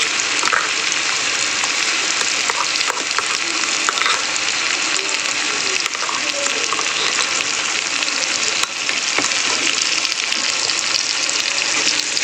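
Onion paste frying in hot oil in a pan, a loud, steady, close sizzle with faint stirring scrapes throughout.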